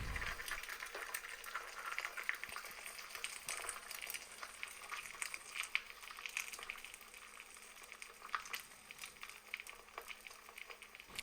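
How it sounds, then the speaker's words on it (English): An egg cracked into hot oil in a pan fries with a soft, steady crackle and sputter that runs quietly and unbroken for several seconds, with no voices. "right as I crack the egg in now, you're going to see that it immediately starts to fry"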